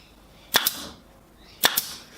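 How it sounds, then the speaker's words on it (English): A pin gun fires into a walnut and maple jewelry box with two sharp double snaps about a second apart, each shot followed by a quick second click, close and crisp over a quiet room. "Pin gun makes it so easy,"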